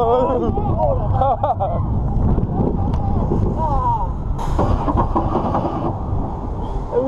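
Strong cold wind roars against the microphone over rumbling roller coaster noise at night at Parc Astérix, while people talk and shout over it.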